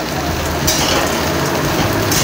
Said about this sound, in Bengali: সরষের তেলেই কিন্তু ব্রোকলিটা ফ্রাই করছি